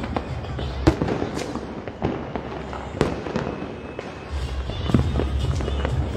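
Diwali firecrackers bursting outdoors in a town in Una, with repeated sharp loud cracks over a continuous rumble of distant explosions and crowd noise.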